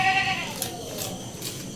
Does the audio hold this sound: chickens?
no